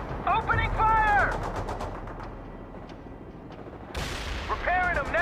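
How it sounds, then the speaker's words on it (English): Rapid bursts of machine-gun fire and heavy explosions from the real-time strategy game World in Conflict, loud and layered, with a radio voice speaking over the combat. "It's ugly down here, sir. Opening fire."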